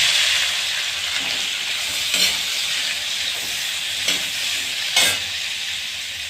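Hot ghee with asafoetida sizzles steadily in a pan, a continuous close frying hiss with a few short sharper bursts as onions go in and are moved around.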